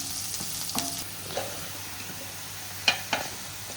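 A pinch of asafoetida goes into hot oil with chopped onions for Andhra egg pulusu, giving a faint, steady sizzle broken by a few quiet stirring scrapes and clinks close by.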